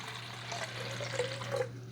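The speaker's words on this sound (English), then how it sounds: "I'm going to pour this pure vinegar in here," Pure vinegar is poured into a glass coffee maker carafe, giving a soft steady trickling pour with gurgles over a low hum, close and fairly quiet.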